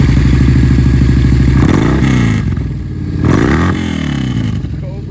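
A used 2015 Yamaha Bolt C-Spec café-style V-twin cruiser with a Cobra exhaust rumbles loudly up close, its engine throbbing unevenly and swelling in brief revs over a steady idle.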